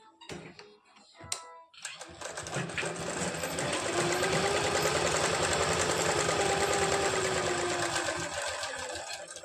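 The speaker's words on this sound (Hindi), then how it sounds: "अब हमने इसको इस तरह से रखा और इस पर भी हम यहाँ से सिलाई लगा लेंगे।" A sewing machine stitching the neckline of a 42-inch belt blouse runs in a steady, close, continuous whirr for most of the clip, after a couple of short starts and clicks at the beginning, with no talk over it.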